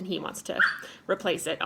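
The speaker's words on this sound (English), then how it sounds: "sorry, that was my dog." A dog yips and barks in short bursts close by, overlapping with a person speaking.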